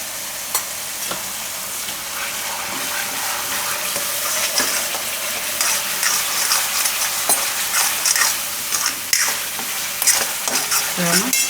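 Spices being stirred into a sizzling palak paneer mixture in a pan, a loud continuous frying hiss with frequent scraping and clacking stirs up close, a faint voice briefly present.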